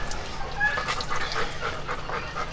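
A dog pants in quick, irregular breaths while being bathed, close by and moderately loud, with faint splashing and background noise around it.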